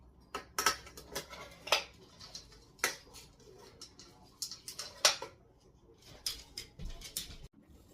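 A spoon clinks and scrapes repeatedly against a bowl while dry dog food is mixed with chicken breast for a husky, in irregular sharp taps and rattles, close and fairly loud, with quiet pauses between strokes.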